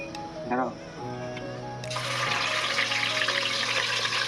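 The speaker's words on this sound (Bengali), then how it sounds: "তেল পুরো গরম হয়ে গেছে, তো এখন আমরা মাছটা ভেজে নেবো" A very large fish, about 6 kg, lowered into fully heated oil at an outdoor cooking spot in a parking area. A brief voice comes first, then a sudden loud, hissing sizzle surges up and holds steady.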